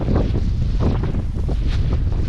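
Wind gusts on a snowy morning walk after a night of wet snow and ice. Loud, continuous rumbling buffets hit the microphone with no pause.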